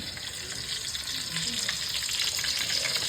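Pork belly (liempo) frying in hot oil for lechon kawali, a steady close crackling sizzle with light spattering, no talk.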